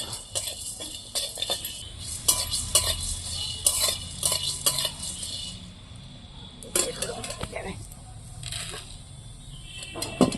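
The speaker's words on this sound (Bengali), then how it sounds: "ডালচিনি এলাচ লবঙ্গ আমি এগুলো একটু ভেজে নেব" Cinnamon, cardamom and cloves frying in a pot, with a light sizzle under frequent sharp clinks and scrapes of a metal spoon against the pot, uneven and close.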